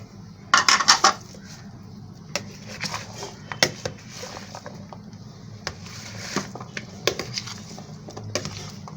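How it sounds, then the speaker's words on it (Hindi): A spoon clinks and scrapes against a bowl while mixing fruit chaat with chikoo, with sharp metallic taps early on and softer scraping and knocks that follow, close and fairly loud, with no one talking. "अब इनको मिक्स करें अच्छी तरह से"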